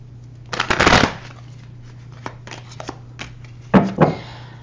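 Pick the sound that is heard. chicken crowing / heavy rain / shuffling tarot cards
shuffling tarot cards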